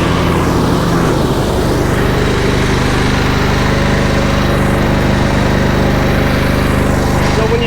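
A riding lawn mower with its blades engaged drones steadily and loudly up close, a constant engine roar with whirring cutting noise and no pauses.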